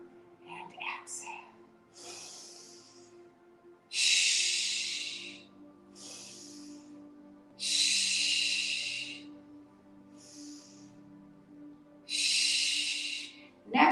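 Slow yoga breathing, long audible inhales and exhales through the nose and mouth, rising and fading in a steady rhythm of airy breaths every few seconds, close, with soft talk and a quiet hum between them.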